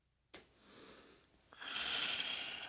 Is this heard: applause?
no